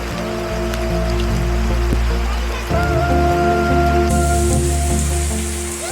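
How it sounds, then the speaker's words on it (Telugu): Heavy rain driven by wind pours down steadily in a village, a dense continuous wash that stays loud throughout, with a few steady tones running beneath it. "గాలి వర్షం చాలా పెద్దగా వస్తుంది."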